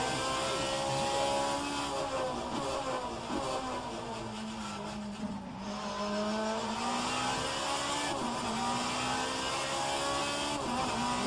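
An Alfa Romeo 155Ti race car engine in a racing video game at Bathurst roars steadily. Its pitch sweeps up and down with gear changes and throttle lifts, and there is a hint of tire squeal. The sound is loud and constant, and no one speaks over it.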